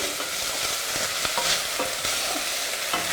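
Okra frying in oil gives a steady, loud sizzle, with a few soft clicks of stirring scattered through it.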